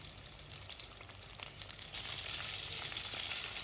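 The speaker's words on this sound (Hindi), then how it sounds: "बहुत ही अच्छे तरीके से हमारी चिली बाइट, चीज़ी चिली बाइट फ्राई हो चुकी है।" Cheesy chili bites frying in hot oil, a steady bright sizzle that grows louder and denser midway through and then holds without a break.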